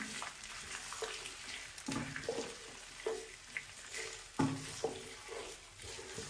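Chicken pieces fry with desi garlic paste in a pan, a soft wet sizzle broken by several scraping stirs and clacks at irregular intervals, fairly faint and with no talking.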